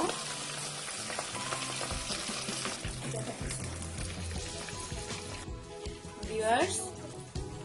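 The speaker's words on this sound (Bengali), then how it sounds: "খুব সাবধানে দিতে হবে কারণ তেলটা যথেষ্ট গরম থাকবে দুইটা দুইটা করে আমি মাছগুলো ভেজে নিব" Fish pieces dropped into very hot oil for Bangladeshi fish kofta, a close, continuous crackling sizzle with stirring and a brief scrape near the end, while someone talks softly over it.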